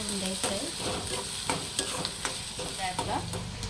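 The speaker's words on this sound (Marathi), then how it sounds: "आणि आता कांदा चांगला परतायचा आहे चांगला कांदा लाल" Finely chopped onions sizzle steadily in a pan as they are sautéed for a prawn masala, with a loud, continuous fry punctuated by regular scraping stirs of a spoon.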